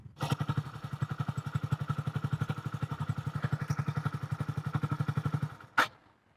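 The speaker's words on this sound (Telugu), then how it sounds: "సో దీంట్లో self start and kick start." A 2021 Hero HF Deluxe motorcycle with i3s runs after a self start, its single-cylinder engine putting out a steady, rapid, even chug up close for several seconds before it cuts off with a brief thump.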